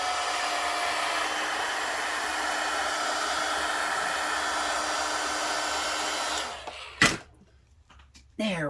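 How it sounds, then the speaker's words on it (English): A heat gun blows steadily on the edge of a jar lid, a loud, even hiss that lasts about six seconds and then cuts off, followed by a few sharp knocks. "I get my heat gun out and heat the edge"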